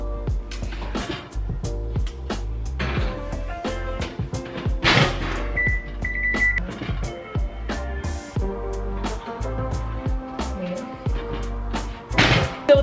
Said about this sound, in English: now I'm gonna throw the donuts into the oven